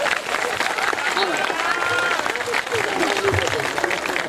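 Audience at a kavi sammelan (Hindi poetry gathering) in Khariar Road, Odisha, clapping in a dense, steady burst of applause that fills the whole stretch at moderate distance.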